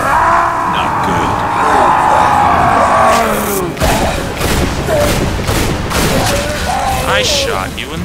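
A quad-barreled shotgun blasting in the video game Bulletstorm, heavy booming shots amid chaotic combat noise and shouting, loud and close, with a voice yelling over the action.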